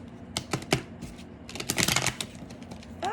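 Thick cardstock tarot cards from the Vice Versa Tarot deck are shuffled by hand, producing close, irregular clicks and flapping bursts with a dense riffle in the middle.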